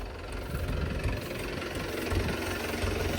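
Tractor engine idling on a farm, a steady close low rumble with a rough knocking pulse running through it.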